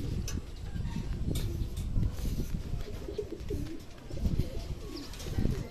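Low, soft cooing from a racing pigeon at a derby race repeats beneath a steady rumble of background noise, with faint flutters and scratchy sounds nearby.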